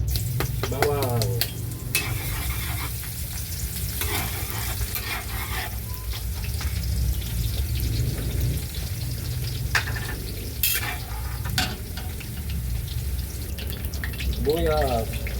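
Garlic frying in canola oil, giving a dense continuous sizzle with occasional stirring clatter and a brief trickle of liquid. The sound is close and steady, with a voice talking faintly in the background.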